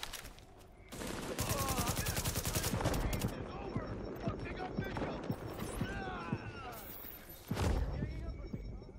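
Rapid bursts of gunfire crackle through a dense, noisy mix in the video game The Division beta, with sharp shots scattered throughout and a louder thump near the end.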